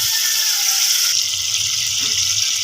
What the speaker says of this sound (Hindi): भूनते भूनते थोड़ा सा पानी इसमें शामिल किया